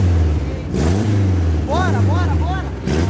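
A Chevrolet Chevette's engine revs hard as the car drifts, a loud, close, sustained roar with rising and falling pitch sweeps as the throttle is blipped, while someone shouts over it.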